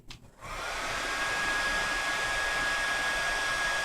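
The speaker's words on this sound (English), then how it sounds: "I'm gonna blow dry it." A hair dryer blows synthetic weave hair dry, a steady loud whoosh of airflow starting after a brief fumble and running on continuously with no talk.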